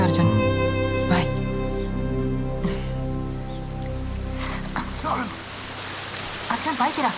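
Steady rain falls throughout as a broad, continuous hiss beneath music with sustained melodic tones, and a person talks over it.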